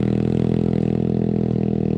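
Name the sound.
enduro motorcycle engine straining in first gear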